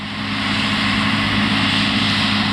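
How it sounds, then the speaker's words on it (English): A Case 7120 combine harvester's engine runs at harvest time, a loud, steady heavy drone with a low hum that holds even throughout, close by and unbroken. "We've got a Case 7120 combine here."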